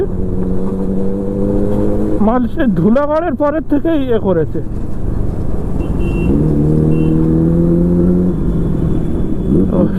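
Vehicle driving in road traffic, steady engine drone with a sharp rising rev and horn-like tones early on, as someone talks over the ride.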